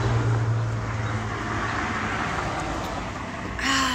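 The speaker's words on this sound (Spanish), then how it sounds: "Sí me escuchan bien porque hay muchos carros." Street traffic with cars passing rolls along as a steady broadband roar, and a louder vehicle swells near the end.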